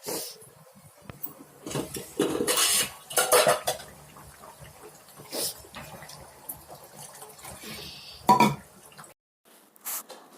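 Fish pieces being added to a pot of fish curry, heard as repeated clattering of pots, pans and utensils, with metal scrapes and clinks in uneven bursts close by and no talk.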